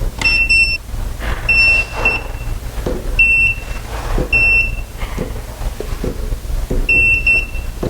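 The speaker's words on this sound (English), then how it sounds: "we're going to take our non-contact tester. We're going to turn it on." A non-contact voltage tester beeps in short high-pitched chirps while an electrical outlet is being replaced, giving five or six separate bursts at uneven intervals over a low background hum.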